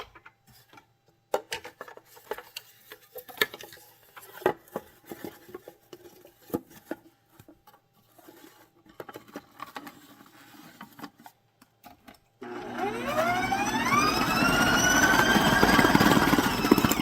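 Chocolate rocky road frosting is worked in a bowl: first scattered clinks, taps and scrapes, then a loud, steady mixer whir that starts abruptly and runs to the end, with no speech.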